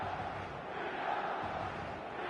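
A steady, distant roar of a stadium crowd in an eFootball match on PS5 before kickoff, a continuous low wash of many voices with no single sound standing out.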